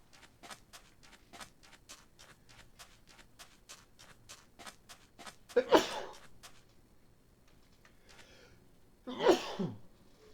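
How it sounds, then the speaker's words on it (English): Two sharp sneezes burst out close to the mic, one midway and another near the end, over a faint steady ticking of Minecraft gameplay. "going to sneeze."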